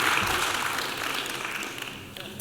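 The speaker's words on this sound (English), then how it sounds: "Let's have a round of applause for the All-Star guys." An audience at a hall of fame induction ceremony applauds in a hall, dense sustained clapping that slowly tapers over a couple of seconds.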